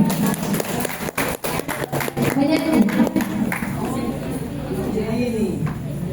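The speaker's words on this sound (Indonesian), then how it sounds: "Mari kita sambut dengan tepuk tangan yang paling meriah untuk praktik baik keenam panelis kita hari ini." Clapping from a school audience greets six panelists at a talk show, a burst of sharp claps at first giving way to crowd chatter and a speaking voice.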